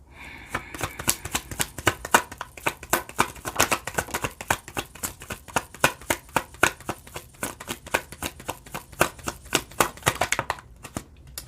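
Tarot cards being shuffled and drawn, a long run of rapid crisp riffling slaps close by with no talk.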